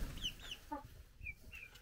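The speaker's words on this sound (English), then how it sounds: "the big chickens are home" Several adult chickens in a backyard coop give short, faint clucks and brief chirping calls in scattered bursts over a soft low background rumble.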